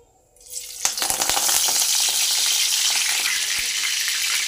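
Curry leaves dropped into about two and a half spoons of hot oil in a pan, bursting into a loud, close, hissing sizzle after a brief quiet start, then crackling steadily, with no talking.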